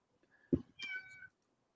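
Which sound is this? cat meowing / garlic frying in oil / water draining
cat meowing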